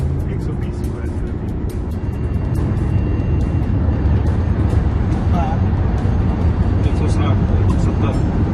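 Road vehicle noise from a car being driven at high speed on the Delhi-Mumbai Expressway near Ratlam, a steady loud roar of engine, tyres and wind throughout, with people talking over it.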